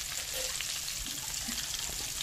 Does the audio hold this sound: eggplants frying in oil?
yes